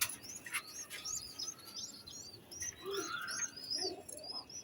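Pigeons coo softly in short repeated phrases, mixed with scattered chirps and tweets from other birds, all fairly faint and distant.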